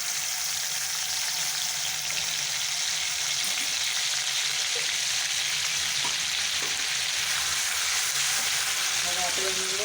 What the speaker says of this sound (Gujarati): હવે આપણે એની અંદર 1 ટેબલ સ્પૂન જીરું એડ કરીશું। આદુ મરચાંની પેસ્ટ એડ કરીશું।